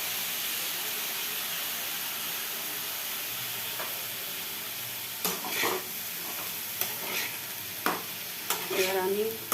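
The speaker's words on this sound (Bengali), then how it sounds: "এবার আমি এটা এর মধ্যে দিয়ে ভালো করে নাড়তে থাকবো।" Poppy seed paste and coconut paste sizzle steadily in a pan as they are stirred, with scraping strokes and small spattering bursts growing busier toward the end; no voices.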